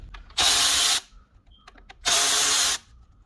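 Two bursts of an impact or power tool spinning off 10 mm bolts from a power steering high pressure line on a 2003 Acura RSX Type S, each lasting under a second, loud and close, with a short pause and faint handling clicks between them.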